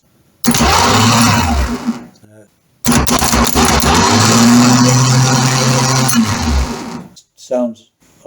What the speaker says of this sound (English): let's see if we still got a nice working starter motor